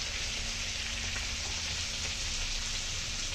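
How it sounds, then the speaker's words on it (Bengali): Onion fritters (piyaji) frying in hot oil in a home kitchen give a steady, close, crackling sizzle that fills the whole stretch without a break. "এখানে এখন পেঁয়াজি ভাজা হচ্ছে"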